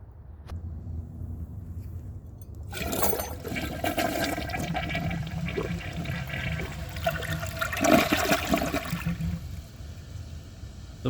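A 2002 Kohler Gabrielle toilet with its original flush valve and flapper flushes, a loud rushing swirl of water that starts abruptly and drains with gurgling for several seconds before tapering off.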